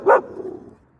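A single sharp dog bark rings out nearby on a city street, followed by a brief fading tail of lower street noise.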